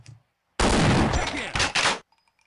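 Automatic weapon gunfire in the shooter game Half-Life: Opposing Force, a loud, dense burst of rapid shots lasting about a second and a half with a brief gap, set against near silence.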